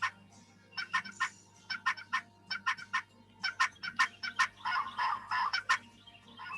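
A turkey gobbles in repeated rapid bursts of rattling calls, fairly close, over a low background hum.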